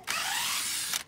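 A power drill whines steadily for about a second as it bores through a workpiece, close and bright, starting and stopping abruptly, with no voices during the run.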